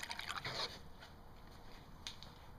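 A Buick car's radiator gurgles as it is filled with water, giving faint, close liquid bubbling and dripping sounds in a few brief bursts.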